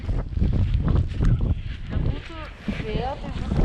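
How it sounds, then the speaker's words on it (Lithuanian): Cold blizzard wind in Iceland roars as steady, loud broadband rush and buffeting against the microphone, with a voice speaking over it. "Šalta pūga."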